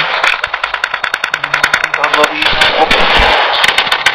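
Rapid bursts of automatic gunfire in the battle-royale game PUBG Mobile crackle in quick succession, mixed with an engine-like drone while players talk over the shots.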